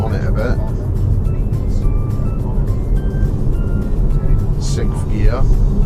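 A car accelerates on a road during a driving test, its engine a steady low rumble heard from inside the cabin, with a voice faintly present.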